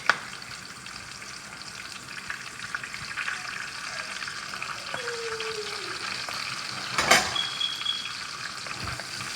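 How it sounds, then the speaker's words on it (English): Spinach hits a very hot pot for breakfast burritos, giving a steady close sizzle and crackle with a brief utensil clank near the end, no talking. "So go ahead and add in the spinach."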